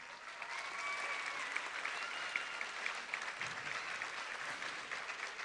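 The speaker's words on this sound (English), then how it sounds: "So let's give a round of applause for your teachers." Audience at a school graduation ceremony applauds the teachers, sustained steady clapping filling the hall for several seconds with a faint voice briefly heard underneath.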